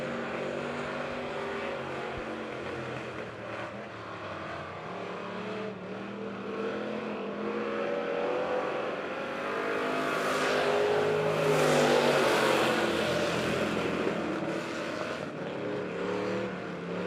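Dirt track race cars lapping a speedway, engines droning at a distance and then swelling to a loud roar as the pack sweeps closer and fades again.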